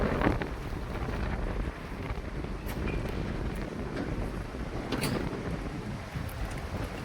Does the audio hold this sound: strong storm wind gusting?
yes